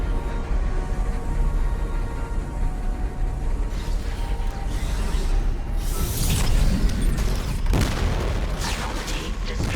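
In the Dead Space (2023) video game, asteroids and floating trash are thrown into a contact beam and destroyed, with a low rumbling hum breaking into loud booming blasts and sharp crashing impacts toward the end.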